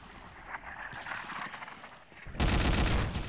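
Gunfire in Day of Defeat on a night barge map, a steady crackle of distant shots that swells into a loud, dense blast of close firing near the end.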